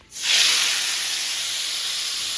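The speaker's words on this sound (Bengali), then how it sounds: "কড়াইয়ে তেল দিয়ে পুরো আর কি মাছের মাখানোটা এটা সবটা ছেড়ে দেবো কড়াইয়ে" Spiced, marinated fish mixture hits hot oil in a wok, bursting into a loud sizzling hiss that rises sharply and then holds as a strong steady frying roar, with no talk.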